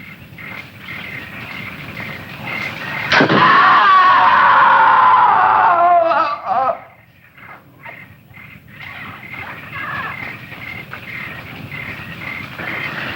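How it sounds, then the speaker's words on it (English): A sudden loud, high wailing scream rises out of quiet background noise, lasts a few seconds, then breaks off into a softer ambience. "I'm sure I heard a scream."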